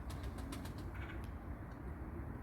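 Pigeons' wings flap in a quick run of soft beats, then settle into faint outdoor background noise.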